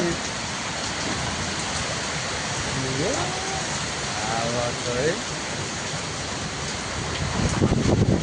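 Heavy rain pours steadily in a dense storm roar, with brief voices and a rising surge of downpour near the end.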